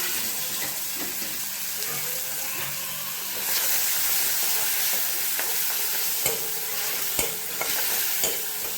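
Tomato and chili fry in a pan with onion, giving a constant dense sizzle. Stirring adds scrapes and occasional sharp metallic knocks, and no voice is heard.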